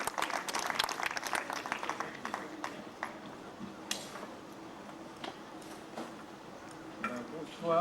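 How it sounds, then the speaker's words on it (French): Audience applause at an SNSM gala evening in Villeneuve-Loubet in 1991, a dense burst of clapping in the first seconds that thins into scattered claps and fades under a murmuring hall. "vous pouvez l'applaudir très fort"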